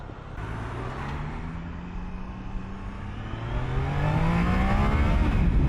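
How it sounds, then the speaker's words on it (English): A Triumph Daytona 660 three-cylinder motorcycle engine pulls under acceleration, its rising drone climbing steadily in pitch and swelling louder toward the end, with a thin induction whistle riding above the engine note and no talk. "It has a slight whistling noise when you're giving it gas."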